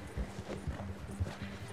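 Horse hooves clip-clop in a Western video game, several muffled thuds at an uneven walking rhythm, close and moderately loud with no speech over them.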